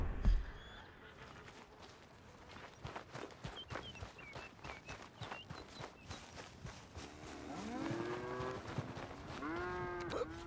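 A cow moos several times in a milking setting, the calls rising clearly near the end over a background of shuffling footsteps and livestock movement.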